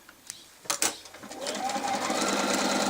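A sewing machine stitching quilt fabric, starting with a few short bursts and then running up into a steady, faster whir, close and moderately loud.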